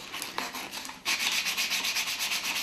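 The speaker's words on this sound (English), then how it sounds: "I'm just going to go ahead and sand the finish completely off it" 120-grit sandpaper rubs a knife handle in quick repeated strokes, a close, raspy sanding sound that starts lighter then turns steady and vigorous with no talk.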